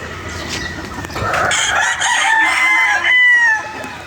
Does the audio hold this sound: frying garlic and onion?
no